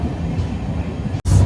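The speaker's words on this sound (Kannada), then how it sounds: "Finally train ಹತ್ತಿದ್ವಿ." Train rumbling in a steady low drone heard from on board, with a brief cutout near the end before the noise returns louder; no talking.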